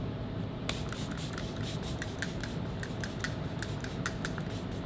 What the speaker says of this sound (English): I'm going to be spraying my face with the Fenty Beauty makeup mist.